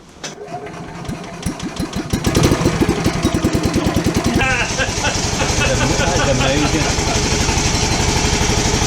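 A restored Heinkel Trojan bubble car's small engine cranks with rapid rhythmic turning, catches, and settles into a loud, steady, chattering idle close by, with a man exclaiming over it.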